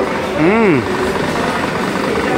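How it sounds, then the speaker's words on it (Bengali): Arcade car racing game in a mall game zone: a loud steady engine drone with a rising and falling whine, set against busy ambient noise. "গেম খেলছে, কার রেসিং খেলছে।"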